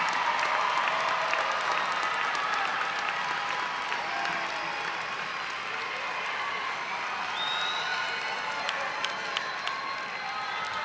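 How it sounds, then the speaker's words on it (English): A large graduation crowd applauds parents and guardians with sustained, dense clapping mixed with cheers and scattered shouts. The ovation fills the hall at an even level from start to finish. "Let's give them a huge round of applause."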